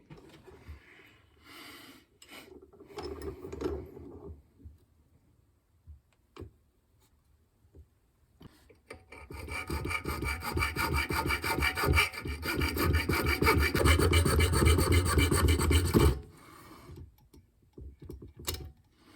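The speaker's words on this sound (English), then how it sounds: "And then I'm going to have to grind that off as well." Part of a plastic GoPro mount is ground off in a garage: scattered light scraping at first, then a loud, sustained grinding burst lasting several seconds before it stops.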